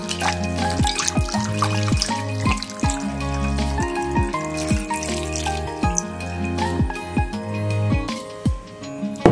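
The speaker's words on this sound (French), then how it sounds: "Vous versez votre bouteille de vin rouge." Red wine glugs from a bottle poured over marinating beef in a kitchen, a loud, continuous burbling pour with rhythmic gulps and splashes throughout, heard alone without talk.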